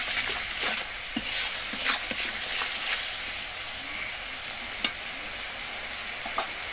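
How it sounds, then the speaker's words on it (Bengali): Spiced masala for a thin dried hilsa fish curry sautéing in a pan, a steady close sizzle with repeated scraping stirs of the spoon throughout, no voices. "এখন একটু কষিয়ে নেব।"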